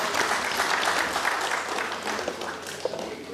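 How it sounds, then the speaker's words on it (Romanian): Applause from the audience at an extraordinary session of the Moldovan Academy of Sciences assembly during an award presentation, steady dense clapping that gradually softens with a few sharper claps near the end. "Aplauze, vă rog!"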